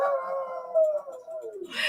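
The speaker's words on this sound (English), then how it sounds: "Can you hear my dog?" A pet dog howls in a long, wavering, sliding tone that drops slowly in pitch, close and fairly loud, with a brief burst of hiss at the very end.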